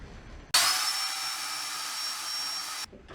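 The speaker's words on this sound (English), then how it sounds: "To level this out, I'm going to use the belt sander." A belt sander runs steadily on a cut wooden trunk slice, levelling the surface. It is a loud, continuous whirring grind that starts abruptly, holds for about two seconds and then cuts off, with no talking.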